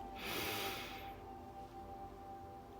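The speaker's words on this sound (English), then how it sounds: "Take another deep breath in" A single deep, close inhale through the nose during a calm guided meditation, drawn in for about a second and then fading into quiet.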